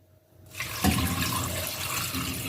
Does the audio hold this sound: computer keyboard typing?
no